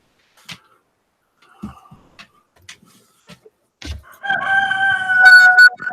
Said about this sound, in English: Dang, birds are noisy.